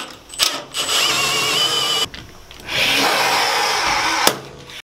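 A rivet tool sets a rivet on a Ford Transit A-frame, giving two sustained whirring bursts with a pause between them and a sharp click near the end.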